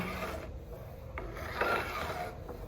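An angled file block rasps along guitar fret ends in slow, steady one-way strokes, a faint, close grinding scrape with no talking.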